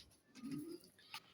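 A large pigeon gives a single low, soft coo, faint and fairly close, with a brief chirp-like sound just after and no voices.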